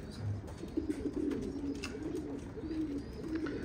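Pigeons coo in low, soft, repeated calls on a rooftop loft, with faint wing flutters and rustling among them at close range.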